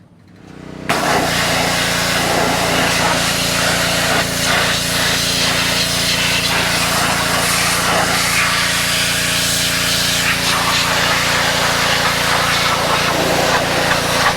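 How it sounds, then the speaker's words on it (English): A pressure washer blasts water over the engine of a flatfender Jeep, a loud, steady hiss of spray over a constant motor drone that starts abruptly after a short quiet moment and runs without a break. "Pressure washing the engine, I noticed that the water neck on the top of the engine was really rusty inside."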